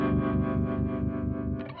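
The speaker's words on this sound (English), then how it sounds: "for these chords I'd like to have the tremolo a little bit louder to create this movement" Sustained baritone guitar chords played through a Kemper Profiler with a tremolo effect, distorted and pulsing in a steady rhythmic throb, close and clear with no talking.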